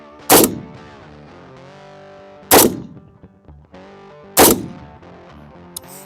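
A Tavor X95 rifle with its stock birdcage muzzle device fires three single rounds outdoors at a range, each sharp, loud blast spaced about two seconds apart and followed by a brief ringing echo.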